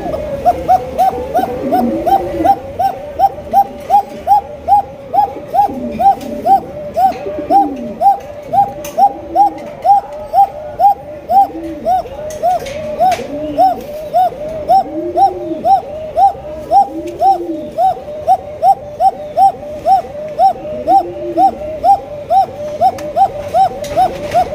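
A white pigeon coos repeatedly while being held, with rhythmic, pulsing coo phrases close by and loud, over a faint background chirping of other birds.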